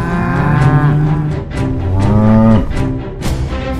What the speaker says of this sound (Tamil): கோயில் மாடு வர ஆரம்பிச்சிருச்சு.